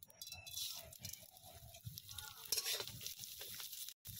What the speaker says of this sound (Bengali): এই তেলের মধ্যেই আমি কিছু মশলা ভেজে নেব। দেব গোবিন্দভোগ চাল